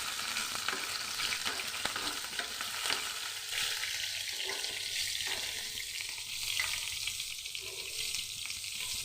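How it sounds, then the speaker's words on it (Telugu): Green chillies fry in about two spoons of oil in a pan, giving a steady close sizzle with stirring scrapes and a faint watery hiss. "ఇందులోనే ఒక 2 స్పూన్స్ ఆయిల్ని వేసుకొని ఈ పచ్చిమిర్చిని వేగించుకోవాలి."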